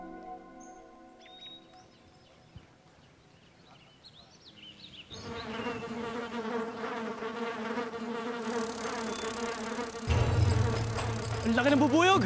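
A giant bee buzzes loudly in a drama scene with a flower and a goat, its drone swelling from a thin whine into a dense, close hum over music and growing louder near the end.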